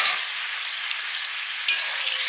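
Chicken balls fry in a pan with a steady, bright sizzle and crackle, broken by a couple of sharp spatters, no talking.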